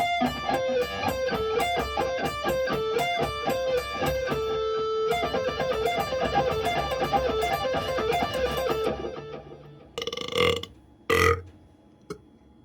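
An electric guitar plays a fast alternate-picked lick with a distorted tone, a rapid, even stream of picked notes for about nine seconds, followed by a few short muted strums and scrapes before stopping.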